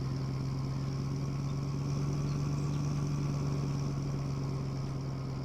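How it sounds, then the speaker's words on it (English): Struggling diesel locomotive engine in the Run8 Train Simulator game, a steady, laboring drone with a strong low hum that holds constant throughout with no voices. "Wow, do you hear that engine? This thing is really struggling."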